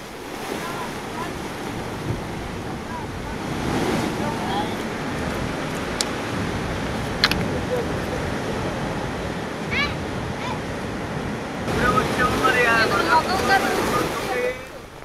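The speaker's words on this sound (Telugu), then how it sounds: "ఉప్పాడలో అలలు ఎగసిపడుతూ ఉండడంతో" Big storm waves at Uppada during Cyclone Fengal roar and crash continuously against the shore, with gusting wind buffeting the microphone and a heavier surge of surf toward the end.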